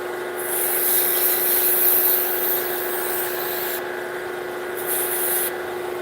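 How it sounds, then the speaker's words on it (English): Sanding a wooden walking stick, a shillelagh, with close steady rubbing strokes, loud and continuous, with a couple of brief pauses where the high rasp drops out. "for now, I'm going to do some sanding on it"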